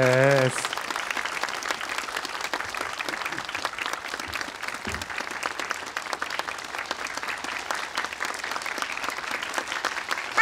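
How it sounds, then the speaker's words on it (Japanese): A steady round of audience applause at a live voice performance by a silent-film narrator, dense and even across the whole stretch after a brief opening sound. "どうぞ大きな拍手でお迎えください山崎バニラさんです"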